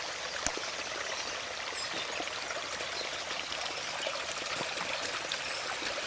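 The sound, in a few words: storm water runoff flowing turbulently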